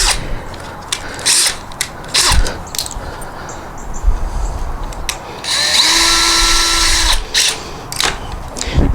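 A power drill drives screws into the wood of a raised bed planter, with several short loud bursts of whirring, then a longer sustained run as a screw sinks, separated by brief pauses and handling knocks.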